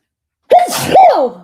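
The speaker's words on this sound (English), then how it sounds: "I gotta sneeze" One loud, close sneeze with a sharp inhale and a forceful burst, from someone suffering allergies, alone against silence.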